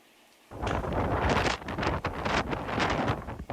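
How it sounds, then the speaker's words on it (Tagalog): Strong gusting wind roars and buffets the microphone as heavy rain pours from a typhoon in Bohol, Philippines, the storm suddenly surging loud after a brief quiet start. "Nagdulot ng malakas na hangin at walang tigil na ulan ang bagyong Basyang"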